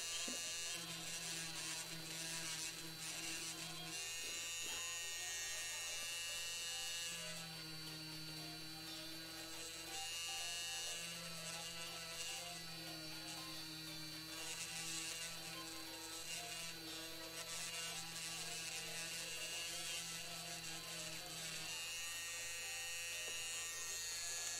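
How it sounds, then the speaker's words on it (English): A Dremel rotary tool runs on leather during costume leatherwork, buzzing high and steady with its pitch shifting as the load changes. The whir starts and stops in a few bursts against a quiet room, and no one talks. "The Dremel's so soothing."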